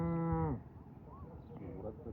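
A voice imitates a cow's low moo in a village farmyard: one sustained, loud, harmonic call lasting about half a second, then quieter outdoor background.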